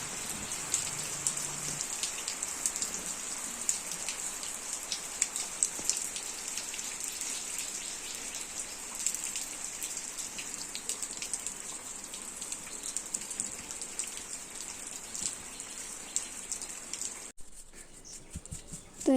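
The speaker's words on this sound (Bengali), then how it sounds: "তো এই যে বাইরের বৃষ্টিটা তোমাদের ঘরে দেখাতেই ঝাড় দেওয়াটা বন্ধ রেখেছিলাম।" Rain falls steadily outside a home, making a constant hissing patter with scattered droplet taps that continue unbroken throughout.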